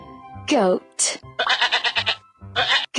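A goat bleats twice, loud and close, among quick spoken animal names in a children's lesson on farm animal sounds.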